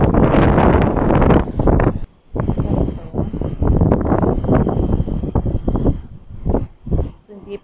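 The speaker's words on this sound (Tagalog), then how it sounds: "lakas pa rin ng ulan tsaka hangin." Strong gusts from Typhoon Saola in Hong Kong batter the microphone in loud, uneven bursts of roaring wind noise, with rain and brief lulls between blasts.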